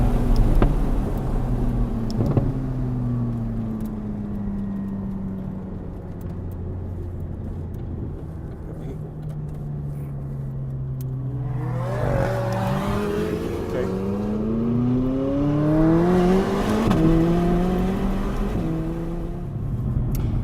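McLaren 600LT convertible sports car driving, its engine droning steadily and then rising through rising-pitch revs as it accelerates, loud and close throughout.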